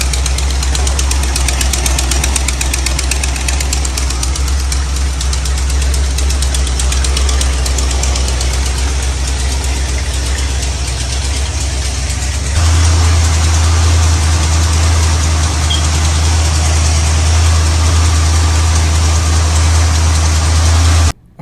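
A Ford Mustang engine idles steadily with a deep, throaty rumble through a newly installed exhaust, close by; partway through the idle drops lower and heavier before cutting off.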